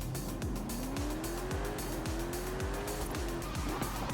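Tuned 2020 Toyota GR Supra with a big engine swap in Forza Horizon 5, engine revving with repeated gear shifts in a steady rhythm, a rising whine and tire squeal throughout.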